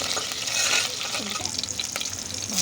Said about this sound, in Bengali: পঁচিশ গ্রাম সর্ষের তেল পাঁচ ফোড়ন আর তিনটে কাঁচা লঙ্কা তা আমি ভালো করে একটু নাড়াচাড়া করে নেব